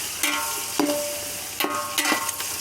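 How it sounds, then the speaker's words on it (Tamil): Chopped tomatoes sautéed in a pan for chicken biryani give a steady close sizzle, broken by several sharp scraping stirs of a spatula. "தக்காளியை சேர்த்து நல்லா கொஞ்சம் வதக்கிவிட்டு அதுக்கப்புறம் தான் இஞ்சி பூண்டு சேர்ப்பேன்"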